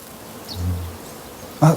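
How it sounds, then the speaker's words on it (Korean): A honeybee buzzes around wild rose (sweetbriar) flowers in a garden, a short, fairly close hum that swells and fades before a sharp louder sound at the end. "벌 날아왔다."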